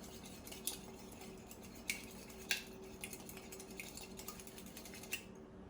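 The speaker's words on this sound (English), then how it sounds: "And then I use a little whisk, but you could also use a little fork, and I'm just gonna stir that up until it's nice and mixed up." A small whisk stirs cake batter ingredients in a bowl, giving quiet, sparse metallic clinks and taps against the bowl at irregular intervals over a soft, low background.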